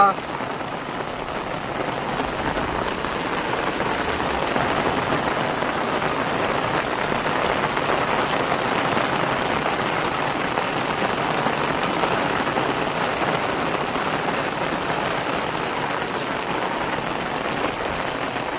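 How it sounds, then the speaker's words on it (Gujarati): Heavy rain pours down steadily, a dense, constant hiss of drops drumming on surfaces, loud and unbroken throughout. "તો જોઈ લો ધોધમાર વરસાદ ચાલુ છે"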